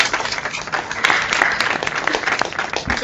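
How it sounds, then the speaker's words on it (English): Students on an online session give a warm round of applause to a Pro Football Hall of Famer, many scattered hands clapping at once, loud and uneven, with a few faint voices mixed in. "join me in saying thank you and a warm round of applause to Hall of Famer Paul"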